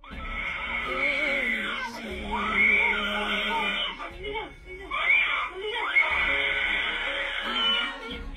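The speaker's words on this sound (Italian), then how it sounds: "Quelle urla." A young girl screams in terror in a recorded home video, with long, shrill cries repeating in bursts over muffled background noise and some voices.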